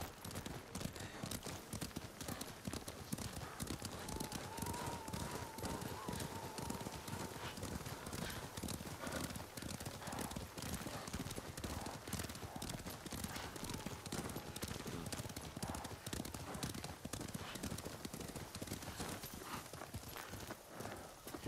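Horses gallop in the video game Ghost of Tsushima, a steady rapid clip-clop of hooves running through the whole stretch, with game sound and a brief tone underneath.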